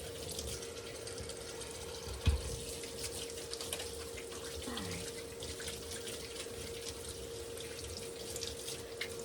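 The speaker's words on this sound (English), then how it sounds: "I'm gonna wash my hands real quick." Tap water runs steadily into a sink as hands are washed in a home kitchen while cooking rock fish tacos, a constant close hiss with a brief splash near the start and no talking.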